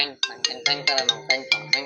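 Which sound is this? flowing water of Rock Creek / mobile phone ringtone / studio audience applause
mobile phone ringtone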